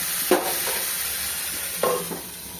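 Winter vegetables sautéing with spices in a pan for a tangra fish curry, a steady soft sizzle with two brief scraping stirs of a spoon, close and alone without talk.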